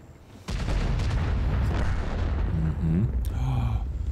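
A tank cannon fires in the game World of Tanks, a sudden loud boom followed by rumbling game effects and a brief voice in the background.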